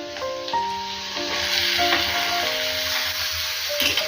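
Chopped onions sizzle steadily in hot oil as pieces of ridge gourd are tipped into the pan, a close, loud, continuous frying hiss with a few soft clinks and shifts as the vegetables land.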